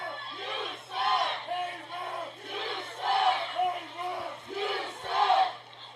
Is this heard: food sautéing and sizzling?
no